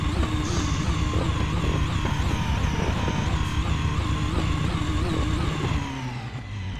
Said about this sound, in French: le pit limiteur sur cette voiture